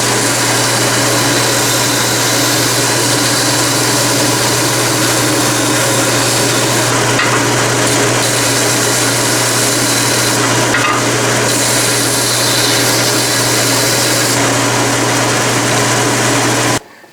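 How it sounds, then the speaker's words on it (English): A belt sander grinds a brass hammer handle loudly and continuously, a steady abrasive roar over a motor hum that changes slightly as the metal is pressed against the belt, then stops abruptly. "I'm just going to do it on the belt sander."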